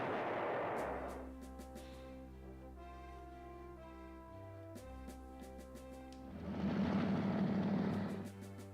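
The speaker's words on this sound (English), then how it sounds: "Fighter strafed that field and did some damage." In the PlayStation 1 strategy game Panzer General, a fighter plane strafes a field: a burst of rough gunfire noise opens, tonal game music holds in between, then a second louder burst of firing follows.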